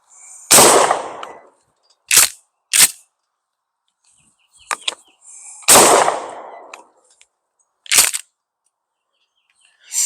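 A Mossberg 590 shotgun fitted with a Streamlight TL-Racker flashlight fires several loud, close blasts, each with a booming decay, with sharper metallic clacks of the pump action between shots.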